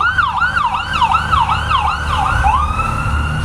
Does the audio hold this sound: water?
no